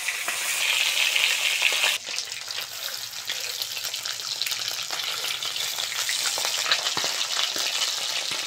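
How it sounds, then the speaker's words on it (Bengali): Fish frying in mustard oil in a kadai, a loud steady close sizzle and crackle that runs without a break, with a few sharper spits and a slight drop in intensity after the start. "মাছগুলো হালকা করে ভেজে নিয়েছি, তেল থেকে তুলে নেব।"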